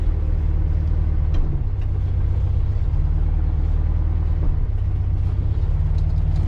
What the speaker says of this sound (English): Park and brake, neutral, powering down Volkswagen